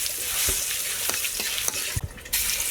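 Chopped garlic and panch phoron sizzle in hot oil while lentil and bottle gourd are cooked, a steady crackling hiss broken by a few sharp spatula scrapes and a brief dip near the end.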